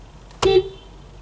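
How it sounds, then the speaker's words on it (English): A Honda CR-V Hybrid's car horn gives one short, loud, clear honk lasting about a fifth of a second, with quiet around it. "Let's just test the horn of this Honda CR-V."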